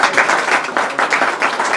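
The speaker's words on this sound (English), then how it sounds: "Quick round of applause for Dave and Earl, please" A short round of applause from an audience at a tech meetup in Henderson, steady moderately loud clapping throughout.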